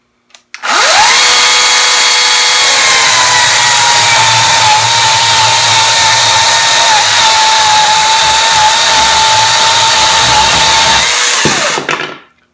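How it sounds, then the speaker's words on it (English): A Hychika 14-inch 40V cordless chainsaw cuts through a block of wood, giving a loud, steady high-pitched electric whine that holds unchanged for roughly eleven seconds before stopping abruptly. "So let's cut through this block of wood and see how the chainsaw performs."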